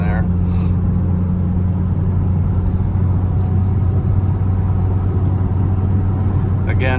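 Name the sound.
2011 Jeep Patriot Latitude engine accelerating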